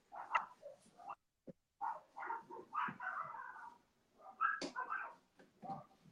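Puppies outside wanting to come in, whimpering and yelping in repeated high cries at fairly close range, with short pauses between bursts.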